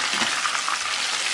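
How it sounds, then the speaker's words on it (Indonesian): Fish fries in hot oil in a small wok, a steady, dense sizzle with no talking. "Ini ikannya aku goreng jadi 2 kali fluffy karena wajannya nggak terlalu besar"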